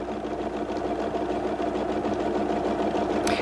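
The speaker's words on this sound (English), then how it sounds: "simply sew, and we will have an H" A Husqvarna Viking sewing machine stitches a monogram letter H, humming at a fast, steady, continuous pace, loud and close, with no talking.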